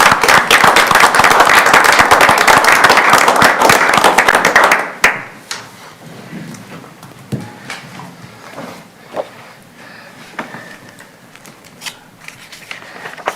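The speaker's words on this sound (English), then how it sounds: "Give Glenn a round of applause." A short, crisp round of applause at a city council meeting that stops abruptly, leaving quiet room tone broken by sparse taps and shuffling.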